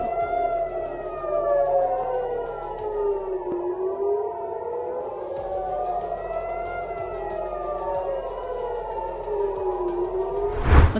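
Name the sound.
air raid warning sirens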